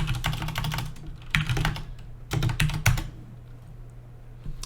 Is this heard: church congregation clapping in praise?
no